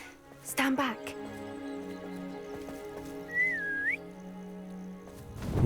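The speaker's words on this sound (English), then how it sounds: "Whistling sound." A single rising and dipping whistle in Hogwarts Legacy sounds clearly over light pattering ambience, preceded by a sharp brief clatter.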